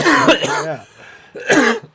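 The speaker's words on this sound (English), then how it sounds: "I'm gonna" Two harsh, voiced coughs, one after the other with a brief pause between, close and fairly loud.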